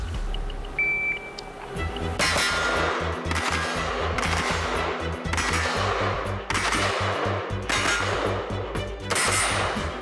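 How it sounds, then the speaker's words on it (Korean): Rapid bursts of gunfire from a Korean army infantry battalion's night shooting drill, loud and close, with several sharp volleys separated by brief pauses over a steady low rumble. "어둠이 내려앉자 야간 사격 훈련이 실시됩니다. 기동 발쳐 사격 개시."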